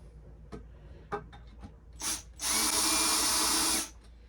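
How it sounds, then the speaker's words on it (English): A few light taps and knocks, then a power drill whirs loudly and steadily for over a second while drilling holes in plywood, before stopping. "we're just gonna drill some holes to mount this plywood to"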